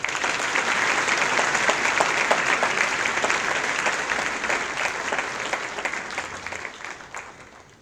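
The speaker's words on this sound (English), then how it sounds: "Please give him a round of applause." Sustained applause from an audience at a NAIDOC event, dense and steady clapping for several seconds before tapering off at the end.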